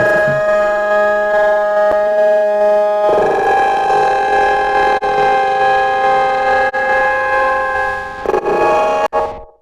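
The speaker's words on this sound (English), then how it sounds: "taking the same like dulcimer sound and, layering itself with itself Yep. in, with additional processing" Layered, processed dulcimer tones form a sustained, bright harmonic drone that swells fuller after a few seconds and holds steadily, broken by a few short clicks near the end.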